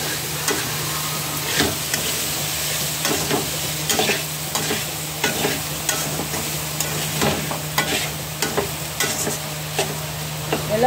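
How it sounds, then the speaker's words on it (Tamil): Upma ingredients are stirred in a frying pan, giving a loud, steady sizzle with rhythmic spatula scrapes repeating throughout. "வானலில் சேர்த்து ஒரு முறை கலந்து விட்டுருங்க."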